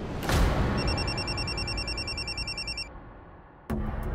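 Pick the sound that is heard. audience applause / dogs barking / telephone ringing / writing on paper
telephone ringing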